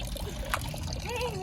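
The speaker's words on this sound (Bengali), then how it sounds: "এই দেখো কল, দেখো জল পড়ছে কিনা।" Water running from a tap on a rooftop, a steady trickling pour heard close under background noise, with a voice faintly present.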